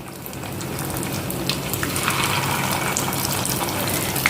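Onion manchurian pieces deep frying in hot oil, a steady, close, dense bubbling sizzle that swells slightly as more pieces go in, with no talking.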